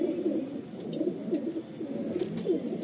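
Madrasi pigeons in a loft coo in low, rolling, repeated phrases, close and continuous, with faint background noise and no talk.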